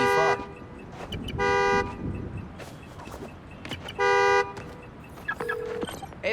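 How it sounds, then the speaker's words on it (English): Car horns honk in the open-world streets of Marvel's Spider-Man: Miles Morales, with three long, loud blasts spaced apart over traffic and city noise, plus a shorter tone near the end. "Follow the honk."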